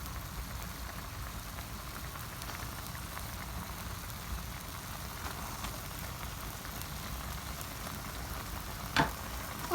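Eggs go into a pan of egg korma, giving a steady, moderate sizzle and frying crackle throughout, with one brief sharper clatter near the end and no talking.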